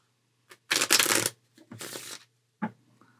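Playing cards being shuffled close up, two quick riffling bursts with a brief flick before and a short snap afterward, in an otherwise quiet room.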